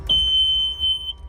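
A single sustained high-pitched electronic warning beep from a forklift-type vehicle lasting about a second, close and clear over a low engine-like rumble.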